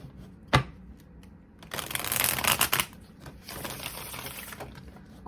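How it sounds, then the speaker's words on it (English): Tarot cards are shuffled in two bursts of rapid riffling flutter, the first louder and the second slightly softer, after a single sharp tap on a quiet background, close and clear with no talking. "One more shuffle."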